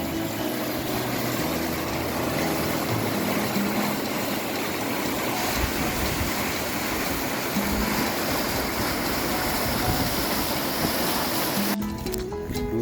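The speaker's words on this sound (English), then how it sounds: "River is in spate." A river in spate on the West Highland Way rushes loudly in a continuous, dense roar of fast water that stays close and steady for the whole stretch and cuts off abruptly at the end.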